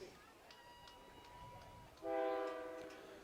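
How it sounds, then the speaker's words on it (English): A train passes near a high school football stadium across the highway, a distant horn sounding faintly, then a louder, sustained horn blast in the second half over quiet background rumble. "You can hear the train in the background."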